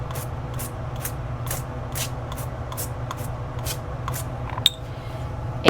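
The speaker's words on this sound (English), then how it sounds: "I'm going to take this and just spray" Repeated short bursts of an aerosol oil spray coating a sheet pan dinner with separated onions, about a dozen quick hisses in a steady rhythm over a low kitchen hum.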